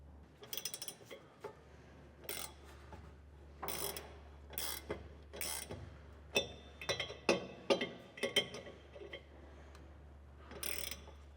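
Threading an air line fitting onto a Firestone Air Command Extreme Duty air compressor by hand, a series of close, sharp ratcheting clicks and metallic taps in uneven bursts over a steady low hum.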